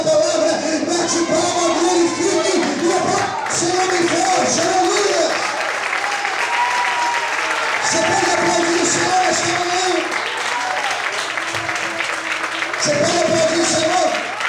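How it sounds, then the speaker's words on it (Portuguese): A church congregation claps and applauds during a sermon, loud, sustained clapping mixed with cheers and whoops, under strong voices or singing that rise and fall through the whole stretch. "Se você recebe esta palavra, bate palma, glorifique e aplaude o Senhor bem forte"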